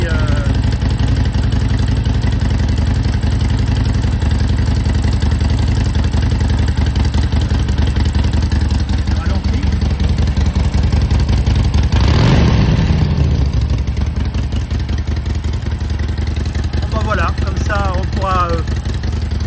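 A Harley-Davidson motorcycle with new mufflers idles steadily and loudly with a lumpy low rumble, a brief rise in revs midway, then continues idling.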